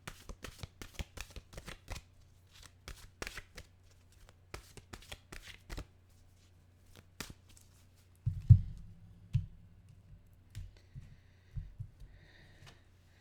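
Mystical wisdom oracle cards shuffled close by in rapid papery riffles, then a few thumps and soft taps as the deck is handled, with no talking.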